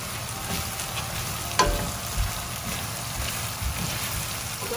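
Tomatoes are being stirred in a frying pan for a shakshouka-style tomato omelet, giving a steady close sizzle with soft scraping, one sharper clack of the utensil against the pan partway through, and no talking.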